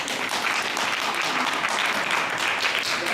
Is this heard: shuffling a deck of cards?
no